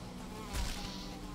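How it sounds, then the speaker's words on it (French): Mosquito buzzing in the video game Valheim, a thin, steady insect whine heard close and fairly quiet, with a brief louder swell midway as it passes near. "Mais non, mais saleté de moustique!"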